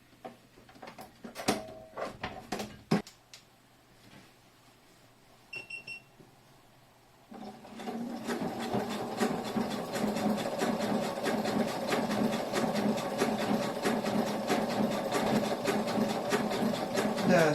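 A sewing machine fitted with a stitch in the ditch foot, making a bag, runs in a steady, fast mechanical whir from about the middle onward. Before that come a few sharp clicks, handling noises and a brief beep.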